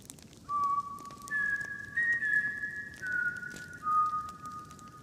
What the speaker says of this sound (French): Toutes les nuits, de 3h03 à 3h05, il y a un sifflement.